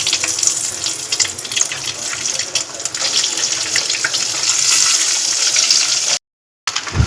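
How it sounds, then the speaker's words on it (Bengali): Steady, loud sizzling hiss of eggs frying in hot oil, continuous and close, with a brief silent gap near the end. "বাকি ডিমগুলো আমি একইভাবে ভাজতে দিয়ে দিলাম"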